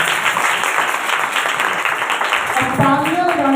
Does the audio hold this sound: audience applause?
yes